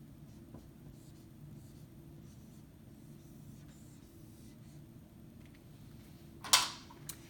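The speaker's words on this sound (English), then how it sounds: "So I'm going to write cells on the board." A marker or chalk scratches across a classroom board in short, faint strokes over a low background hum, ending with a louder brief rasp.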